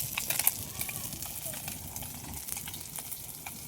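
Pabda fish frying in a pan over a village wood fire, a soft, steady sizzle with light crackling, fairly quiet and close.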